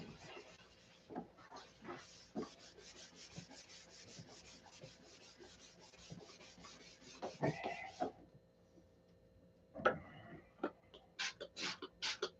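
Faint, intermittent rubbing strokes of an abrasive sheet over a wood finish, short scratchy passes separated by pauses, with a few louder brushes near the end; no voices.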